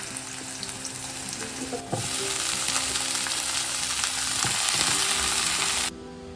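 Leafy greens sizzle in a pan over a tempering of dried red chilli, nigella seeds and garlic. The steady frying hiss swells louder partway through and runs on without pause before it cuts off abruptly near the end.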